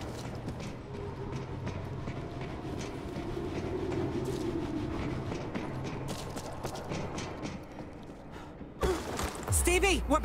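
A train in the video game World War Z rumbles past on the other side of a tunnel vent, a dense rattling, clattering roar building midway, then cut off by sharp louder noises near the end.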